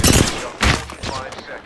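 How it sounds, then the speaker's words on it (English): Gunfire in the battle royale video game Apex Legends, opening with a loud burst, a second burst at about 0.6 seconds, then lighter continuing shots, all close and dense. "Opening fire on the enemy."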